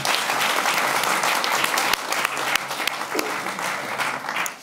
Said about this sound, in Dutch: Kom lekker zitten en geef hem een warm applaus.